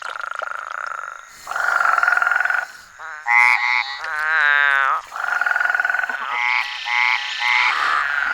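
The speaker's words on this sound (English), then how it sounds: "Other toads and frogs join the chorus." Spadefoot toads and frogs calling after rain, a loud close chorus of buzzing, droning trills in long overlapping bursts, some higher-pitched calls joining near the end.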